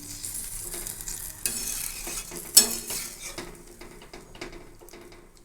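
Green jackfruit cooking in a pan as water is poured in, a brief bright splash and hiss over scraping spoon and clinking utensil sounds, close by.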